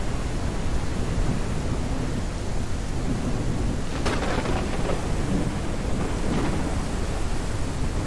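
Rain pours steadily in a farm scene in the video game Ranch Simulator, a loud continuous hiss, and a thunder crack strikes about midway before rumbling off under the downpour.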